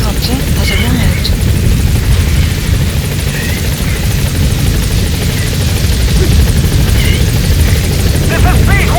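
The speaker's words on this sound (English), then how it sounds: "Support helicopter has arrived." Support helicopter in Metal Gear Solid V thunders close and loud, rotor chop and engine buzz filling the whole stretch as it arrives at the landing zone.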